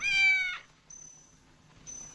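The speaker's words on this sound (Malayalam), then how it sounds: "it's A kitten" A kitten gives one clear, high-pitched meow at close range. Faint, thin high tones and near quiet follow, with no voices.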